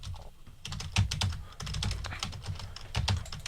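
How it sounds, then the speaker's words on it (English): Uneven hunt-and-peck typing on a computer keyboard, close and fairly loud, with irregular clusters of key clacks and short pauses between strokes throughout. "This is me typing."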